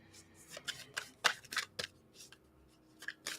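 A deck of cards handled and shuffled close by, a run of quick crisp riffling snaps and flicks in uneven bursts, fairly quiet, with no speech over it.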